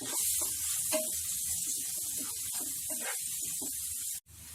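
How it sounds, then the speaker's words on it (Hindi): Finely chopped onions frying in a pan on a high flame for dhaba-style mutton kheema, giving a steady, close, crackling sizzle that runs throughout before cutting off abruptly near the end. "प्याज को अच्छे से फ्राई कर लें। अब फ्लेम को हाई पे रख दें।"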